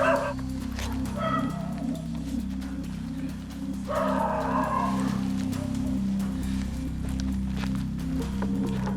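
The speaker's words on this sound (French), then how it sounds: "le chien des voisins remarque leur présence" Neighbours' dog barking at police officers entering a garden at night, with a couple of bursts of barks, the clearest around four seconds, over a steady low hum and faint footsteps.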